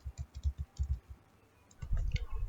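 Quick clicking keystrokes typing a command into a computer's command prompt, a rapid burst of close taps, a pause, then a second denser flurry of keys.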